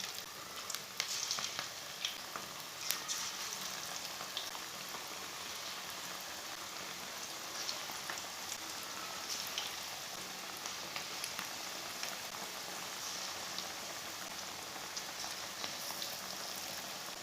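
Egg and cabbage pakoras frying in hot oil make a dense, continuous sizzle with fine crackles and pops, steady and close for the whole stretch, without any talking.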